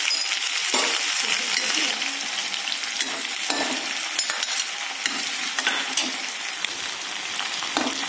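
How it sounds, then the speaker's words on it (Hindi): Panch phoron, ground ginger, garlic and green chili frying in hot oil for tomato pickle, a steady loud sizzle with crackles and stirring scrapes throughout, close up and without talk. "पचफोरन डालेंगे, पिसा हुआ अदरक और लहसुन और हरी मिर्च डालेंगे।"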